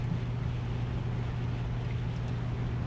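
A Japanese fighter aircraft engine in the War Thunder video game drones at a steady, unbroken pitch with a broad roaring rush over it, loud and constant throughout, no talking.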